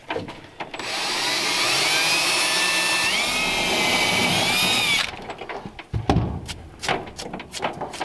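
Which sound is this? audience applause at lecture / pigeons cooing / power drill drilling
power drill drilling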